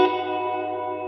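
A sustained guitar chord rings out through an Electro-Harmonix Canyon delay and looper pedal set to a long reverb time, decaying slowly and evenly with a washy, echoing tail and no playing or talk over it.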